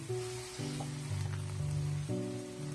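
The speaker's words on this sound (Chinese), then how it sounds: "充分的翻拌均匀，把西兰花和白玉菇炒至入味" Broccoli and white beech mushrooms sizzle steadily in a hot wok during stir-frying, a close, continuous frying hiss with faint scraping from the stirring.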